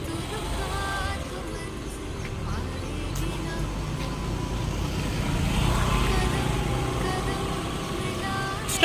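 Scooter engine idling and pulling away during a beginner's riding lesson, a steady low motor drone that swells as the scooter moves, with traffic noise and voices around it.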